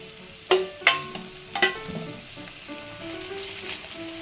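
Tomatoes and curry leaves sauté in a pan for a sundakkai kuzhambu, a soft sizzle under a few sharp metallic clinks of a spoon on the vessel, spaced irregularly and fairly close.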